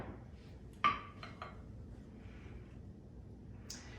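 A spoon stirs active, bubbly sourdough starter in a bowl, giving a few faint, scattered clinks against the bowl over quiet room tone, with no one talking.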